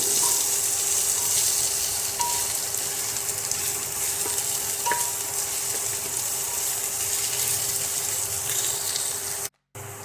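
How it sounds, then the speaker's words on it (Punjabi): Crushed ginger and garlic masala fries in a cooker with a steady, loud, hissing sizzle that holds throughout, broken by a few faint stirring clicks and a brief cut near the end. "ਅਦਰਕ ਤੇ ਲਸਣ ਨੂੰ ਜਿਹੜਾ ਮੈਂ ਕੁੱਟ ਕੇ ਰੱਖਿਆ ਸੀ ਤੇ ਹੁਣ ਆਪਾਂ ਚੰਗੀ ਤਰ੍ਹਾਂ ਭੁੰਨ ਲਵਾਂਗੇ ਮਸਾਲੇ ਨੂੰ"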